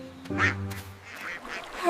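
Cartoon duck quacks from an animated children's nursery rhyme, a few short nasal calls over a sustained musical backing, close and fairly loud; the quacks may be voiced by a singer.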